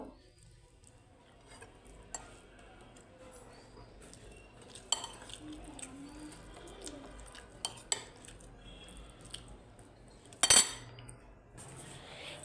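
A toddler plays on a bed with metal spoons and toy dishes, making sparse, irregular clinks and scrapes, mostly faint, with a few sharper knocks and a louder clatter near the end.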